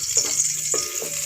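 Hot ghee sizzles in a pan as small green cardamom pods go in, giving a brief close crackle with a few soft popping bursts.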